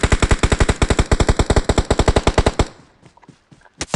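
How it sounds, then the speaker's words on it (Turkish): Sustained automatic gunfire in the PUBG Mobile video game, a rapid, evenly spaced string of loud shots lasting over two seconds, followed by quieter scattered game sounds and a couple of sharp clicks. "Biri vuruyor."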